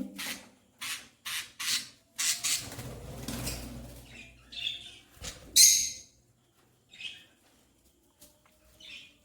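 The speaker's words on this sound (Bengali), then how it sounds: "সাদা কালো পাখি।" Black-and-white pet birds in a breeding cage call in a series of short, bright chirps, some in quick bursts with rustling and wing flutter, fairly close and otherwise quiet.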